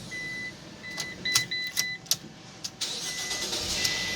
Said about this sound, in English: Go ahead and try to start our vehicle.